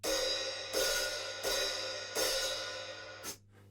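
A drum hi-hat opened too far, giving a loose, messy wash: four sustained cymbal strikes, each ringing until the next, with a brief closing chick at the end.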